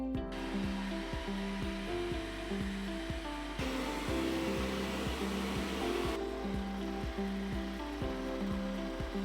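An Anker Eufy C28 Omni robot vacuum cleaner runs at about 56 to 65 dB with a steady whirring hiss and rhythmic mechanical thumps, its motor noise shifting in intensity midway.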